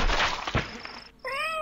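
A cat yowls in a video game: a short clear meow with wavering pitch bursts in at the end after a brief gap, preceded by muffled thuds and game noise, fairly faint overall.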